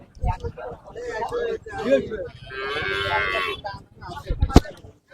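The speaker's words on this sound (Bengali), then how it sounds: "এখানে আরেকটি কিউট বাছুর এবং গাবি" Cattle at the Jetua livestock market: a cow and calf moo in a few drawn-out calls, fairly close, while someone talks over them and the market crowd murmurs.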